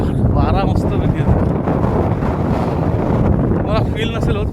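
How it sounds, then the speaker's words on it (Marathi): Steady, loud wind buffets the microphone outdoors on a breezy day in a Konkan village, a continuous rough roar filling the whole clip with brief voice-like traces underneath. "एकदम वारा मस्तपैकी"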